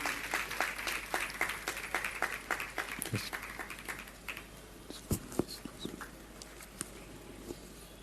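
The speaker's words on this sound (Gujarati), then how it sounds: "આપણે 2 હાથની તાળીઓથી સ્વામીનું સ્વાગત કરશું." Devotees at a swami's welcome clap with both hands, a rapid, fairly faint patter of claps that thins out into scattered sharper claps.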